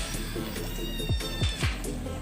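Several fat rescue cats meowing up close, a few short descending cries spaced about a second apart over a steady low background hum.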